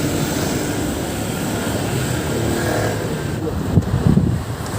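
A Honda Click 125 V3 scooter engine runs in a steady, loud drone after repairs to its rat-chewed wiring, with a few clanks and knocks near the end.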